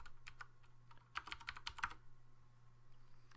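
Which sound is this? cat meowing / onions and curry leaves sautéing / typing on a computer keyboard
typing on a computer keyboard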